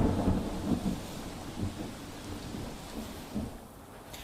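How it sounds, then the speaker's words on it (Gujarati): Heavy monsoon downpour in Dang district of South Gujarat, a dense steady wash of rain with low rumbling thunder, strongest at the start and easing slightly, heard without any voices. "ડાંગ જિલ્લામાં પણ ધોધમાર વરસાદી માહોલ જામ્યો છે"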